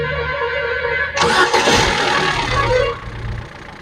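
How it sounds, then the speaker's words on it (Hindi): A Ford Figo with a misfire fault cranks and fires up, a sudden loud burst of starter whine and engine roar that settles into a rough idle, close by in a workshop. "गाड़ी स्टार्ट करो फिर से"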